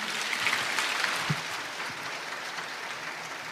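A church congregation claps together at a Korean thanksgiving service, a dense, steady wash of applause from a large crowd that holds at an even level throughout.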